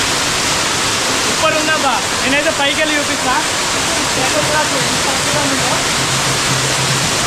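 Katiki Waterfalls near Araku pours with a steady, loud broadband roar that fills the whole stretch, while people talk over it close by.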